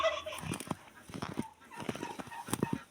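Chickens cluck in short, choppy bursts close by inside a coop in winter, several birds overlapping with no talking.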